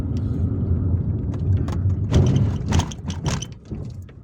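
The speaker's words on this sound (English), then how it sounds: "So we've got to drive through this overpass here." A car driving through an overpass on a road in Algiers, with steady engine and road rumble throughout and a few brief sharper knocks and rattles from the vehicle toward the end.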